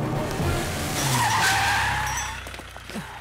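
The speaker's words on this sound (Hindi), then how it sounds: "सर आपने गाड़ी बीच में क्यों रोक दी?" A car skids to a halt on a road in a Hindi-dubbed action film, with a loud, sustained tire screech that swells and then fades as the vehicle stops. No one speaks.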